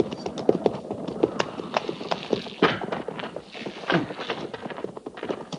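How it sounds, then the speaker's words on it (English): Hooves of an army patrol's horses clop on the ground as the column comes to a halt, a dense, uneven clatter of many steps at moderate distance that thins out near the end. "Jenkins, get that horse and put him with the pack mules."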